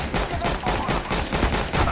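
Shotgun blasts and pistol shots crack in rapid succession during a Counter-Strike: Global Offensive arms race match, forming a dense, steady run of close, loud gunfire.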